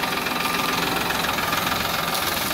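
Farmtrac 60 tractor with power steering running during sugarcane field tillage, a steady loud diesel engine drone with a rhythmic knocking pulse, close and continuous.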